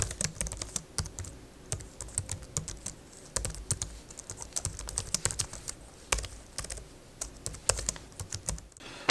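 A Logitech MX Keys keyboard is typed on in quick, irregular bursts of soft, close key clicks, with brief pauses between flurries and no talk.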